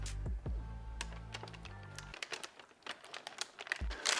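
Paper from an Off-White Vapor Street sneaker box crinkles and rustles in quick close bursts, after a low hum fades out early on.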